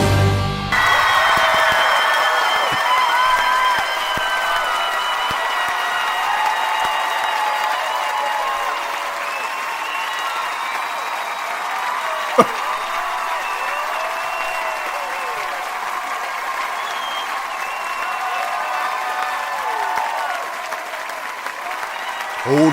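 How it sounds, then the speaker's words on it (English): A theatre audience applauds after the opening number of the Beetlejuice stage musical, a broad sustained clapping wash that carries on under lingering musical tones and voices, with one sharp louder hit near the middle. "Hold for applause, hold it!"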